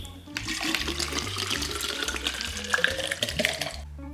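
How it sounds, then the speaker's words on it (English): Water runs steadily from a tap into a water bottle in a home during an early school-morning routine, a continuous close splashing flow lasting about four seconds with faint background sound. "I filled my water bottle up"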